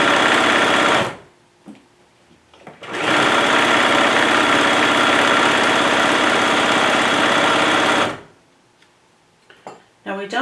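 A sewing machine stitches a Valentine's Day bag in two loud, steady runs close to the mic, with a short pause between them and a quieter stretch of fabric handling at the end.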